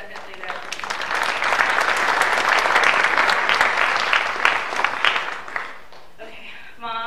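An audience at a Latino graduates' celebration applauds in a dense, sustained burst of clapping that swells and then tapers off, followed by a speaker resuming at the microphone.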